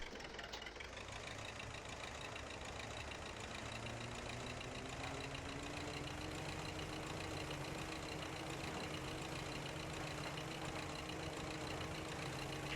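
A tractor engine in the Farming Simulator 15 game drones steadily at speed for the whole stretch, a loud, continuous low rumble with a slowly rising tone and no talking over it.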